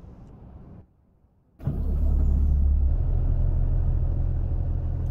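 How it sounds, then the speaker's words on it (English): In American Truck Simulator, a Western Star 4900 truck engine with a Cummins engine cranks briefly, goes quiet, then starts up into a loud, steady low rumble that keeps idling close by. "let's climb into the truck, get her fired up, and get moving."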